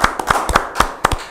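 An audience claps for two guest speakers at an arts talk on Balinese ogoh-ogoh sketch and mask-making: a handful of sharp, separate claps in a loose, uneven rhythm, fairly close, with no voices.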